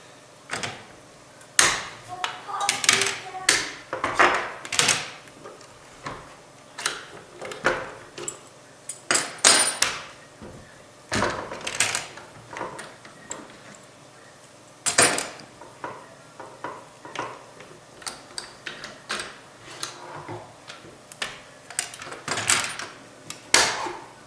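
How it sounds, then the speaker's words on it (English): A rapid series of sharp metallic clanks and clicks, close by, as clamps are loosened and pulled off a form one after another, with brief pauses between bursts. "Just take off all of these clamps real quick."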